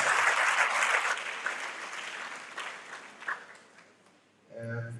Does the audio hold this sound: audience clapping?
yes